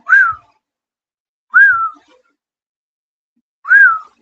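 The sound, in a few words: person whistling, imitating a heard whistle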